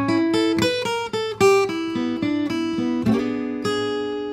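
A blues shuffle guitar lick in E rings out clearly on its own, with a run of plucked notes in a bouncing rhythm and sustained ringing tones, close and fairly loud, with no talking.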